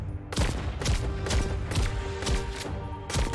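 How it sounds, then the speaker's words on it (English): Silenced custom pistol firing in the VR rhythm shooter Pistol Whip during a tournament deadeye session on a song: about six sharp, evenly spaced shots over steady background music. "Here he's got his own custom pistol with a silencer on."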